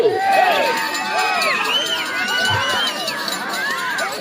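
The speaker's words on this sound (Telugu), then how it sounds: "కేకలు బిగిల్లు" At a bullock cart pulling contest, a crowd shouts and whistles loudly, with sharp, sweeping whistles and overlapping yells packed together throughout.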